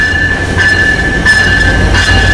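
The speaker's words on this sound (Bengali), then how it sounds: "ঢাকা অভিমুখী নীলসাগর এক্সপ্রেস রাত 9:22 অল্প বিলম্বে পার্বতীপুর এসে প্রবেশ করলো।" The Dhaka-bound Nilsagar Express pulls into Parbatipur junction at night, its wheels rumbling loud and close with a steady high ringing over them and no voices.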